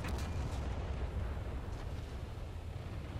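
A German Admiral Hipper heavy cruiser fires its naval guns in War Thunder: deep rumbling booms roll under a continuous low-frequency drone, with a sharper report at the start and another fainter one midway.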